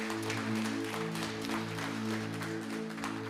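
A church congregation at a Sunday worship service applauds in a continuous soft patter, under sustained keyboard chords that hold steady through the whole stretch.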